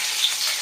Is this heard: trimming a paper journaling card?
no